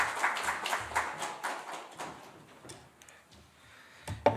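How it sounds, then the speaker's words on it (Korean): A church congregation claps in welcome for the pastor at a Sunday service, a loose run of individual claps and taps spread over a few seconds, thinning out and then ending in a couple of sharper sounds. "우리 박수로 환영의 박수로 맞으시겠습니다."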